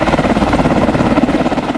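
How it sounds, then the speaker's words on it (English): A standard Black Hawk helicopter flies close by with a loud, steady rhythmic thumping from its rotor blades over a dense engine roar that lasts throughout. "This is what a standard Black Hawk helicopter sounds like."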